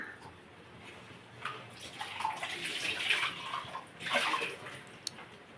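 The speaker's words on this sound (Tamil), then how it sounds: "இந்த மாதிரி ஒரு டம்ளர் தண்ணி ஊற்றிக்கிறணும்." Water pours steadily into a tumbler, a hollow rushing splash that swells twice, with a faint clink near the end.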